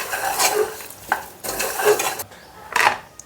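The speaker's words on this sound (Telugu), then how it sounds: "ఇప్పుడు ఒకసారి మంచిగా కలుపుకోవాలి." A metal spoon stirs and scrapes chunks of spicy mutton fry with chillies in a pan, a few slow rhythmic scraping passes, close and clear with no talk.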